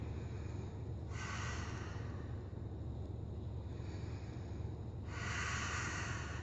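Deep breathing during a yoga stretch, two slow airy exhales or inhales a few seconds apart, soft and close over a low steady background hum.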